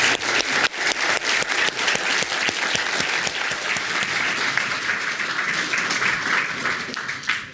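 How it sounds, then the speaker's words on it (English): An audience at the end of a panel discussion on war powers and political order applauds for several seconds, the clapping dense and sustained with sharp individual claps standing out near the start before it thins out toward the end. "give a round of applause for her"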